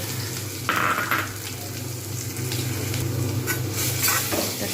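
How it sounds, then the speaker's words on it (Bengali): Potatoes cook in a pan with ginger-garlic paste, chili powder and turmeric, giving off a loud, continuous sizzle. A spoon scrapes and stirs through it now and then. "কিন্তু ভালো করে আমি কষে নেব আলুর সঙ্গে কষে নেব"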